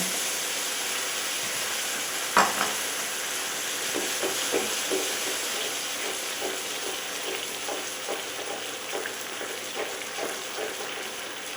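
Natural gelatin stock melting down in a hot pan for old-fashioned steak Diane gives a steady close sizzle and frying hiss, with a sharp clatter early on and scattered soft pops and stirring ticks throughout, no talk.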